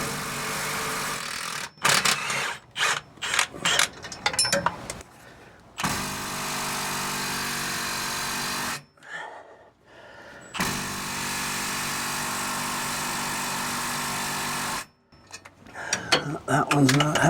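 A socket wrench with non-impact sockets turns bolts on the exhaust of a 2004 Toyota Tundra during catalytic converter replacement: close metallic clicking bursts and long sustained ratcheting runs separated by short pauses.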